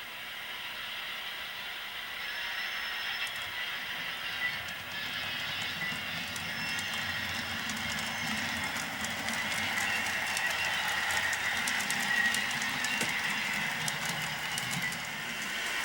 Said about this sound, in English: Our train passes Spencer Junction and is switched onto the Southern Railway's Washington to Atlanta main line.